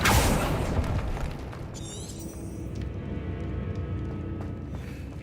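A Bombarda spell explosion in Hogwarts Legacy, a loud boom at the start that rumbles and fades into lingering debris and ambient game noise.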